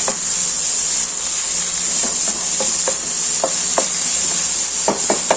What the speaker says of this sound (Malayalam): ഇങ്ങനെ ഒരു മിക്സ് ചെയ്ത് കുറച്ച് നേരം ഇങ്ങനെ കിടക്കാം.